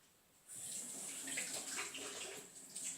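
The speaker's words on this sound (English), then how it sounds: "That's Nanny washing her hands" A tap runs steadily as someone washes her hands, a soft broadband splash that starts abruptly and continues at moderate level, heard slightly distant indoors.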